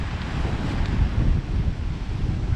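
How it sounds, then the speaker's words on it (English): Gusting wind buffets the microphone in a low, rumbling roar while rough sea surges underneath, a continuous loud blustery wash with no voices. "The sea's a little bit rough today, it's a bit windy."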